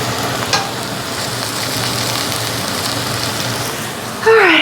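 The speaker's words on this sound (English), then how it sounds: "so now I'm going to fry the sliced mushrooms." Sliced mushrooms fry in a pan with a loud, continuous close-up sizzle and crackle that holds steady throughout, followed by a brief sharp clatter at the very end.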